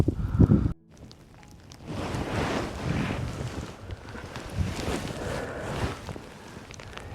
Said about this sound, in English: by that time the wind has picked up a lot